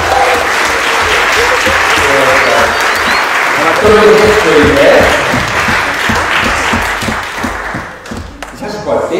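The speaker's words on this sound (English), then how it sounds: "we did a big round of applause" A church congregation at a Sunday service breaks into a big round of applause, loud and sustained clapping from many people that thins out near the end as a voice speaks over it.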